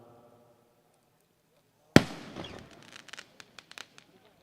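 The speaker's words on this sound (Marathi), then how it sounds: "फटाक्यांची आतिषबाजी एक षटकानंतर मात्र लगावली जाते." Fireworks going off at a local cricket match: one loud sudden bang after quiet, followed by a decaying burst of crackling and several sharp scattered pops, with faint voices beforehand.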